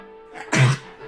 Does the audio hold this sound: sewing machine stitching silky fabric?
no